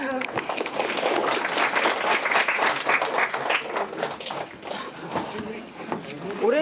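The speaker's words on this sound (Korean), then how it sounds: "박수." Applause from students at a Korean academy's information session, brisk and sustained clapping from a roomful of people, fairly close and lively.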